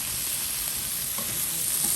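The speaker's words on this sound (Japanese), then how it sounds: "そんなに頑張って炒めなくても大丈夫です" Summer vegetables stir-fry in a pan, giving a steady sizzle and hiss with occasional scraping as they are tossed.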